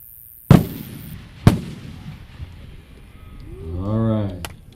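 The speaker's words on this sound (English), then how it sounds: "Let's go to number 2, Black Powder Rockets." Black powder rocket fireworks at an American-made Midwest fireworks festival display: two sharp, loud bursts in close succession, then a rising whistling rocket tone toward the end, with faint crowd noise beneath.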